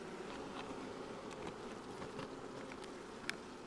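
Honey bees buzz inside a chimney while the colony is being removed. The dense, steady swarm drone sits close and continuous throughout, with one sharp click near the end.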